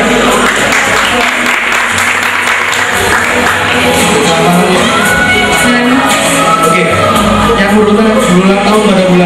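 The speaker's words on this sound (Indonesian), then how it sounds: "Oke, tepuk tangan buat Nina." Loud, sustained audience applause with cheering and whoops fills a live show, a steady crowd roar throughout with scattered shouts rising above the clapping.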